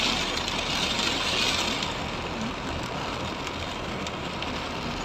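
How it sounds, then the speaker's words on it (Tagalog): A dense, steady hiss of heavy rain pours down without pause, with a faint engine hum underneath. "Oo, ang lakas-lakas ng ulan."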